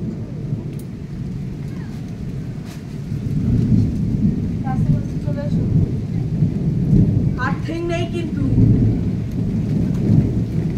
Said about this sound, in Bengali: উচ্চুকর মেঘের গর্জনটা আমি শুনছি।